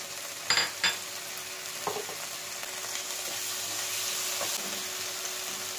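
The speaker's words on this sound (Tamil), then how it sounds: "இப்போ இதில் வெங்காயத்தை ஆட் பண்ணிக்கலாம்" Onions frying in a pan for spicy hotel-style noodles give a steady, moderate sizzle, opening with a couple of sharp utensil clacks and a few light scrapes.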